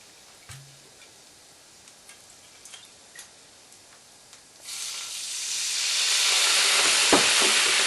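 A few quiet ticks and clicks, then a loud, bright sizzle bursts up as white wine hits garlic in a hot pan and keeps hissing steadily.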